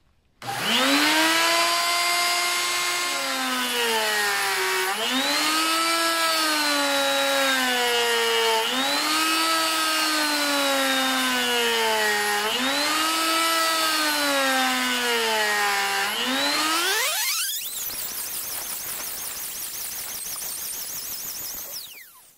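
A router riding on a router sled cuts across a wood surface, a loud sustained whine whose pitch rises and dips in repeated passes, then climbs sharply and drops to a rougher, fading tail.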